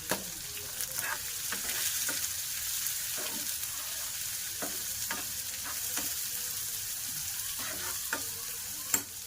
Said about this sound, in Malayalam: ഇനി നമ്മൾ ഇങ്ങനെ ഉള്ളി അരിഞ്ഞത് അതും കൂടെ ഒന്ന് ചെറുതായിട്ട് വഴറ്റിയാൽ മതി